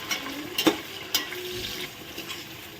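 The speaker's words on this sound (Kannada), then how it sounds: "ಚೆನ್ನಾಗಿ ಟೊಮೊಟೊ ಸಹ ಫ್ರೈ ಆಗಬೇಕು, ಹಸಿ ಸ್ಮೆಲ್ಲೆಲ್ಲ ಹೋಗಬೇಕು" Tomatoes with salt frying in a pan for chicken biryani: a soft steady sizzle with a few sharp utensil clinks and scrapes against the pan, close but fairly quiet.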